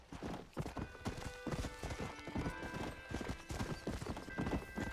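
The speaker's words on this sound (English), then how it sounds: "let's just get on our horse and just make it to the mission." Horse hooves clip-clop steadily at a brisk rhythmic gait in the Red Dead Redemption video game, a continuous run of close hoofbeats with faint game ambience behind.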